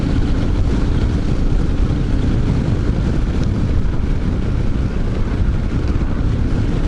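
Riding an Aprilia Pegaso 650 motorcycle on an open road in summer produces a continuous loud rush of wind buffeting the microphone, with steady low engine drone underneath and no letup.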